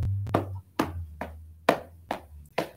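Feet stomp on a floor in a loose rhythm, six or seven dull thuds with a low hum underneath, during a children's circle-time song.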